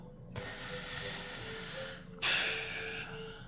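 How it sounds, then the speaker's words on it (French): A large black dog snores close by, a steady breathy hiss with snorting inhales, one louder rasping breath midway through, with no talk over it. "Pézi elle ronfle à côté de moi"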